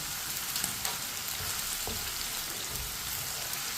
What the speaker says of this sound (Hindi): भिंडियों को 5 मिनट के लिए फ्राई करना है।